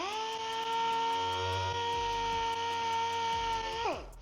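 A DA sander with 320 grit runs against aluminum side pipes in a loud, steady high-pitched whine that holds and then spins down at the end.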